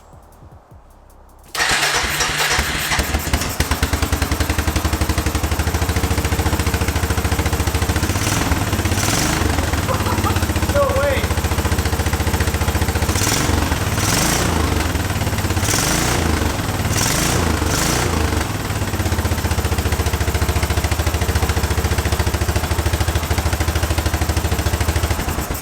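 A small 454 engine in a mini monster truck build cranks and catches after a brief quiet start, then runs loudly and steadily at idle, with occasional rises in pitch.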